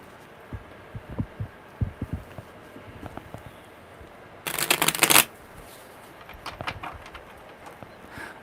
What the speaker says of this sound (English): Okay, one more good shuffle.